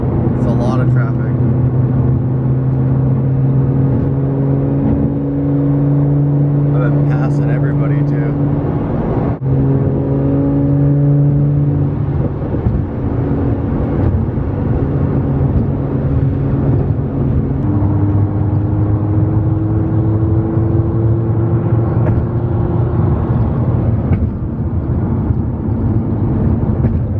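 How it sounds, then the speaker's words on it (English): A Lamborghini is driven through heavy early-morning road traffic near Seattle. Its engine hums loud and close with shifting tones, over a constant roar of the road and occasional passing vehicles. "It's a lot of traffic."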